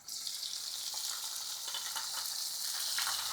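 Mustard seeds, cumin, curry leaves, chillies and asafoetida crackle in hot oil in a home kitchen, a steady close sizzle with no talk.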